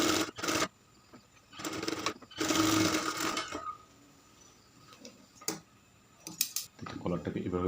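A sewing machine runs a pressing stitch along the shoulder seam of a shirt, sounding in several short bursts of whirring with quiet pauses between them, close and moderately loud.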